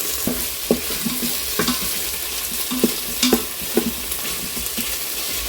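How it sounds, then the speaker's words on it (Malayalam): Onions with curry leaves and salt sauté in a NutriCook Smart Pot 2, a constant close sizzle with soft, periodic stirring scrapes and taps. "രണ്ട് തണ്ട് കറിവേപ്പില കൂടി ഇട്ട് കൊടുക്കുന്നുണ്ട് സവാള വഴണ്ട് വരാൻ ആവശ്യത്തിനുള്ള ഉപ്പ് കൂടി ചേർത്ത് കൊടുക്കുന്നുണ്ട്"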